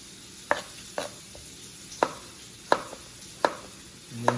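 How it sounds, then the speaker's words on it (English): Knife chopping potatoes into quarters on a cutting board in a home kitchen, about six sharp separate chops at an uneven pace over a low sizzling pan, with no talking. "Then we're gonna cut up our potatoes."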